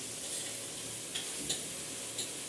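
Onions frying in a pan give a faint, steady sizzle, broken by a few soft scrapes and taps as they are stirred, with no talking.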